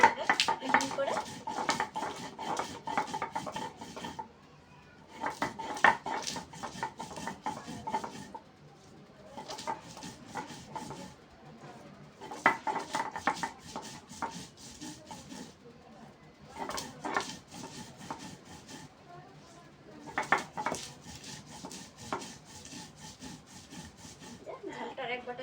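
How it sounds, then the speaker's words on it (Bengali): Raw green chilies are being ground into a fine paste with rhythmic scraping and rubbing strokes, coming in repeated bursts separated by short pauses. The sound is close and moderately loud. "এবার আমি কাঁচা ঝালটা বেটে নেব"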